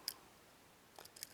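A lock pick setting a pin in an ABUS padlock, two or three tiny, crisp metallic clicks, very faint and close, over near silence.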